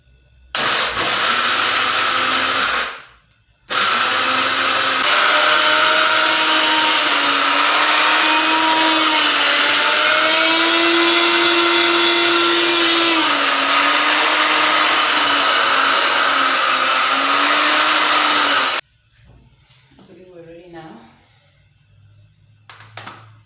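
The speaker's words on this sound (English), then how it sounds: "get my pieces inside a blender and then just get that blended" A blender whirs loudly and continuously for about fifteen seconds, grinding bread into crumbs, its pitch wavering as it chops, then cuts off, leaving faint rustling.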